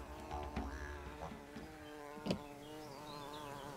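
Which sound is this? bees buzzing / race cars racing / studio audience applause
bees buzzing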